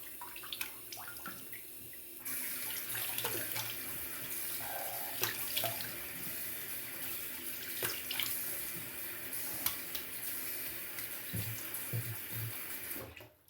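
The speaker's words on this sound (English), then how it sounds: "We rinse with some fresh water." Water runs steadily from a tap, splashing into a sink during shaving rinse, with occasional drips and clinks, close by and continuous.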